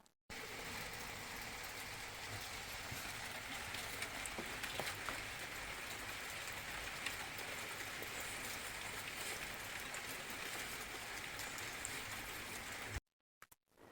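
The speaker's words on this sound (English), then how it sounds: "it's pissing down with rain" Heavy rain pours down in a dense, steady hiss with scattered drips, continuous for the whole stretch before cutting off abruptly at the end.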